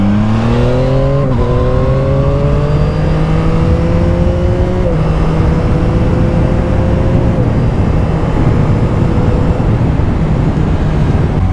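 A 2022 Yamaha MT-09 motorcycle accelerates hard and loud, its engine note rising through several quick gear changes, each shift marked by a brief dip before the revs climb again.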